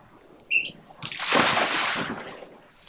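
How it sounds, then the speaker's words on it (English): A person throws themselves over the side of a 2021 Tucktec folding kayak into the water, with a sharp short squeak before a loud, close splash that washes and sloshes away. "just go ahead and throw myself over the side into the water."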